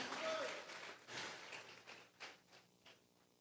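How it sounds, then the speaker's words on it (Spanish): A church congregation applauds during a Sunday service, fairly faint rounds of clapping that swell and fade in a few uneven bursts. "Vamos a regalarle ofrenda de palmas al Dios de la gloria."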